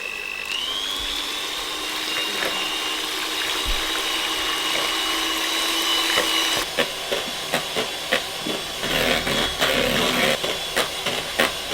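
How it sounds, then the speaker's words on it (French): An electric mixer beats egg whites into stiff peaks for pancakes, giving a steady close whir that shifts pitch, with a rattling, clicking texture as the beaters knock the bowl. "On va mélanger les blancs pour les monter en neige. Donc nous on va le faire au robot électrique."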